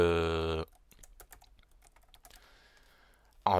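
Computer keyboard keys click irregularly as code is typed, light and close, with quiet pauses between taps; loud tones cut in at the start and end.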